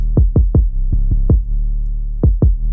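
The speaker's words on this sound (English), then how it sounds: "And you can hear how much of the 808 is being compressed once I add the ratio to it." A compressed 808 bass plays with punchy kicks in FL Studio, loud and close, a sustained deep sub tone under a run of sharp kick hits in a syncopated pattern with a short gap before two final hits.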